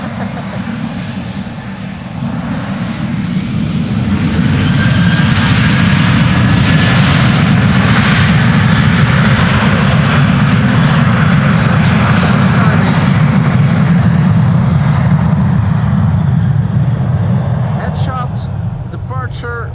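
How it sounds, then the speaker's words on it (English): Atlas Air Boeing 747 departing from Amsterdam Schiphol, heard up close as a deep jet roar that swells over a few seconds, holds loud and steady, then begins to ease off, with faint talk in the background. "coinciding with the departure of Atlas from center"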